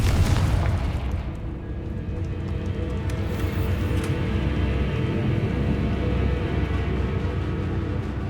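Confringo fire spell in Hogwarts Legacy bursting into a loud, sustained rumbling boom that rolls on for several seconds with no voices over it.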